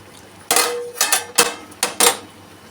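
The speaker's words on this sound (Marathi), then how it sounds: "झाकण काढत आपण" A metal lid comes off a cooking pot of egg paneer curry, with several sharp metallic clinks and clatters spaced apart against a quiet kitchen background.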